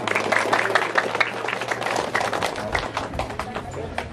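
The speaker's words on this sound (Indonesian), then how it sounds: "Tepuk tangan dulu." A crowd at a madrasah student council inauguration ceremony applauds in a steady wash of clapping, with a voice speaking over it near the start.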